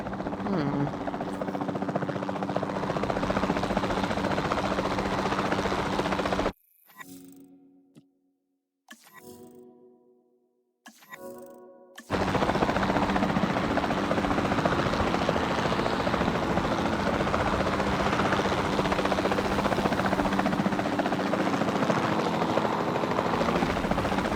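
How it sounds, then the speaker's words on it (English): A capture team helicopter in Jurassic World Evolution 2 gives a loud, steady rotor drone that runs throughout, cut out once by a few seconds of quieter sound before the drone resumes. "Then the sensible thing is to take a capture team helicopter."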